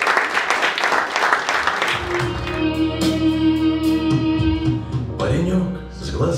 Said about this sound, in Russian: Аплодисменты Лехе и всем афганцам.